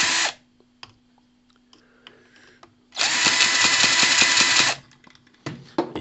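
Microcosm H73 hit-and-miss model engine, Red edition, running with its needle valve still being adjusted, gives a short sharp burst, then a loud rapid sputtering firing run lasting nearly two seconds, with scattered clicks between.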